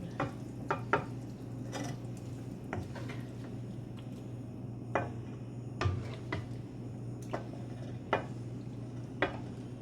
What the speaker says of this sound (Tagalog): Igisa mo sa ano, sa repolyo. Tapos meatball.